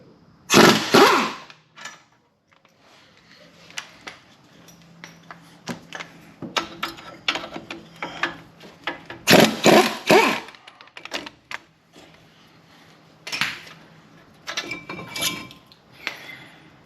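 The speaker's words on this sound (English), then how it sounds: "remove it with its two 17mm bolts here on the back of the steering knuckle" Ratchet working two 17mm caliper bracket bolts loose on the steering knuckle of a Kia Forte, close bursts of loud clicking and rapid ratcheting separated by quieter handling noises and pauses.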